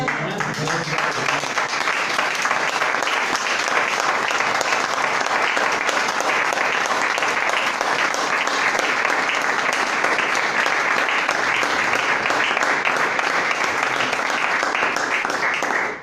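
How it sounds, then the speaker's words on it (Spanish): Sustained, loud applause from a church congregation during a sermon, a dense unbroken wash of many clapping hands lasting throughout, with crowd noise and voices faintly mixed in. "Denle un aplauso."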